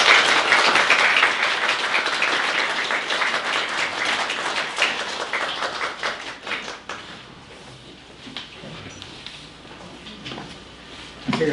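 Congregation applause at a Sunday church service welcoming a guest preacher, dense and sustained clapping for about seven seconds, then thinning to scattered claps as the room quiets.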